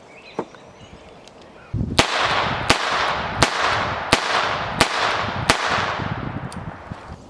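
Six sharp, loud revolver shots spaced about a second apart from a Smith & Wesson Model 632 Ultimate Carry J-frame firing .32 S&W Long rounds, each crack ringing out briefly over outdoor background noise.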